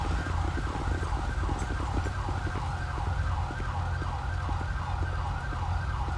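An ambulance siren wails in the LSPDFR police game, a rapid warbling yelp repeating steadily over a low vehicle engine rumble, loud and close throughout.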